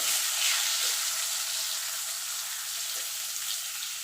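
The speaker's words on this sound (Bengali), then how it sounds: "এবার আমি এই তেলে পটলটা ভেজে নেব" Pointed gourd (potol) frying in a small amount of hot oil, a steady broadband sizzle that stays even and fairly loud from start to finish, with a few faint stirring touches and no voices.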